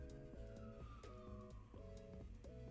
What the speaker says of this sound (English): There are sirens coming past.